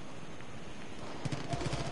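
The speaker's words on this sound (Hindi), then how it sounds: "कहा गोलियां चल रही कुछ दिखाई तो नहीं" Faint background noise, then a quick burst of several muffled gunshots in a rapid series toward the end, in the video game Far Cry 5.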